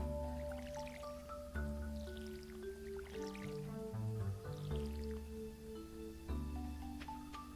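A watering can refilling at a pond in the farming game Stardew Valley: a soft, splashy gurgle of water over a bright, looping game music track, with a few small drip-like plinks.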